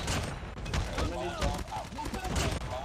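Rapid three-round bursts from the BK57 rifle in Call of Duty, loud and close, repeating in quick clusters over busy game sounds with a voice talking through it.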